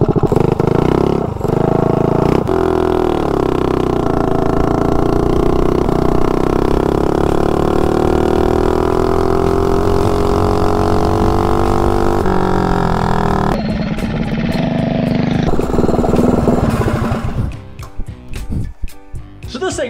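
A 241 small block mini bike engine runs loud and close, a steady drone that holds for most of the stretch, shifts in pitch partway through and breaks into rougher bursts near the end, with faint talk in the background.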